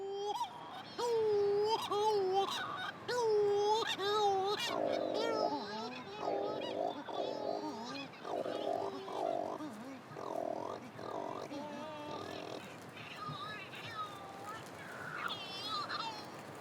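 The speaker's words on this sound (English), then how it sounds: "These Coris shearwaters that wail like infants nest at night under the jumble of rocks." Cory's shearwaters calling at night from a rocky seabird colony, a chorus of wailing, infant-like, wavering cries repeating in close overlapping bursts, loud and near against a quiet background.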